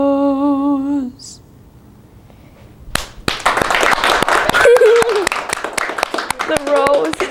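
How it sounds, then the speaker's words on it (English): One person claps hands after a song ends, a run of sharp, fairly even claps close by. Brief singing comes before it, and a voice talks over the clapping. "With a big smile, she applauds."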